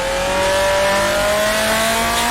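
A 1966 Formula 2 race car in Grand Prix Legends, lapping the Rouen circuit, drones loud and close with a steady high engine note that climbs gradually as it revs, running throughout without a break.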